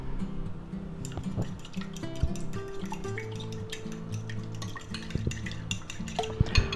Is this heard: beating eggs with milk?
yes